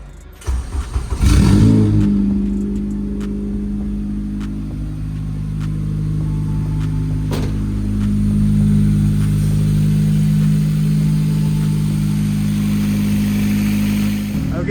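Honda Civic engine cranks briefly and catches, then settles into a steady low idle with a gentle rise in revs partway through, close and fairly loud, with no speech.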